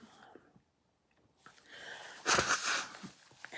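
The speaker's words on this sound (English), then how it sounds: "I'm about to sneeze." A person's breathy sneeze bursts out mid-clip after a quiet pause, preceded by a sharp intake of breath and trailing into wheezy exhalation.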